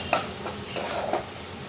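A spoon scrapes and clinks against a pan while curry masala for a jumbo prawn malai curry is stirred, a few brief close knocks over a quiet sizzling background.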